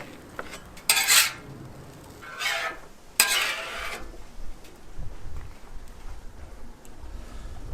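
Griddle fried rice scooped with a metal utensil into a bowl, giving a few sharp scraping clatters followed by softer scuffs and light clinks, close and unaccompanied by talk.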